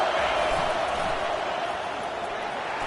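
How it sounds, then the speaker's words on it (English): A large crowd at an American football game roars steadily in a stadium, a broad sustained wash of cheering and noise that holds at a moderate level throughout. "Listen to this crowd just shaking the girders of this place"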